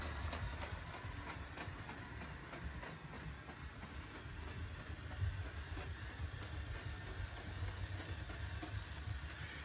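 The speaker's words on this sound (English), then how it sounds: "having this train running around" A small LEGO toy train rattles steadily along its track with a quiet, continuous clicking and rumbling, close by and without voices.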